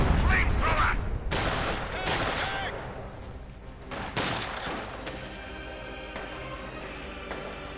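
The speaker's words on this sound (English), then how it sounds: "Oh, field gun barrage!" A field gun barrage in Company of Heroes 2 lands as a rapid series of loud booming blasts, densest at the start and trailing off into scattered explosions and battle noise.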